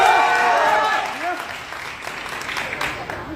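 A crowd claps at a reception party for a Bhojpuri song release. The applause fades gradually from a fuller opening, and a voice is speaking over it.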